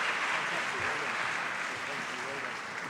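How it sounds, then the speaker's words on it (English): An audience applauds the Randstad Williams Engineering Academy team at the F1 in Schools World Finals 2017 awards ceremony, a steady, dense wash of clapping that fills the hall throughout, with a voice speaking faintly underneath. "One more round of applause for the Randstad Williams Engineering Academy."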